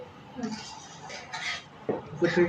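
Milk foam spooned into coffee, with several light clinks and scrapes of a spoon against a cup, close and fairly quiet with brief pauses between strokes.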